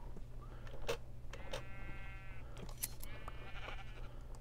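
Sheep in the Minecraft video game bleat in short, wavering cries, about three of them spaced a second or so apart over a low steady background hum, fairly quiet and with no talking.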